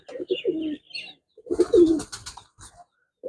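Native desi domestic pigeons coo nearby in low, throaty bursts, two clusters of rolling calls separated by a short pause, with faint chirps above.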